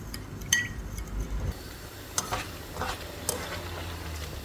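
Beef fried and stirred in a pan makes a soft, steady sizzle, broken by a few light clinks and scrapes of the spatula, with nobody speaking.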